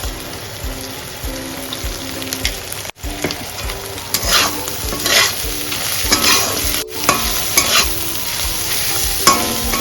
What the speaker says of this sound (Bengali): একটু নাড়াচাড়া করে গ্যাসের ফ্লেমটাকে বাড়িয়ে একটু ভাজা ভাজা করে দিন।